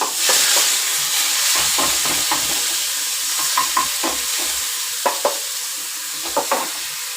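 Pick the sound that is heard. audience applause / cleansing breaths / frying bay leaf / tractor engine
frying bay leaf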